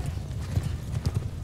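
Horses gallop in a video game battle among horse archers, hooves clip-clopping in a fast, steady rhythm, close and fairly loud, with a brief whinny mixed in.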